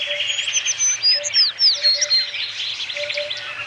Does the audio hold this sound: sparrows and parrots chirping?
yes